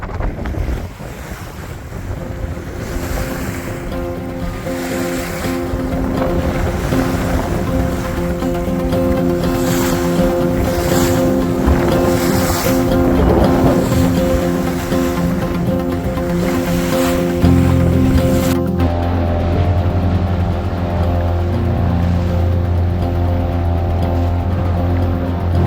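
A sailing dinghy running out through a strait on a sporty, windy morning: steady roaring wind buffeting the microphone over rushing waves and hull splash for the whole stretch, loud and continuous, with no talking.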